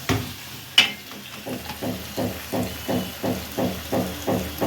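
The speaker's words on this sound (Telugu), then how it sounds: "ఇది బాగా మసాలా వేగేటప్పుడు చక్కగా నూనె తేలుతుంది." Masala of onion, garlic, coconut and poppy seeds frying in oil in a pan for Andhra fish pulusu, with a steady series of soft rhythmic stirring scrapes and a gentle sizzle after one sharp clank near the start.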